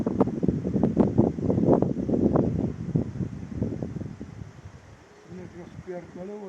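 Strong wind blows outdoors and buffets the microphone in loud, uneven gusts. Someone talks over it in places, and the wind eases somewhat toward the end.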